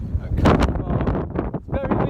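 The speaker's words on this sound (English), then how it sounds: "It's very windy." Strong wind buffets a microphone outdoors in gusty, rumbling bursts that rise and fall unevenly, with a brief lull near the end.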